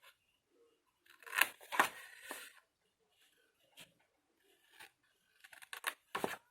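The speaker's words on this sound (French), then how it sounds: "Je coupe tout droit" Scissors snip straight along the fold of paper for a scrapbook washi-tape storage box, in a few close, crisp bursts of cutting separated by quiet pauses.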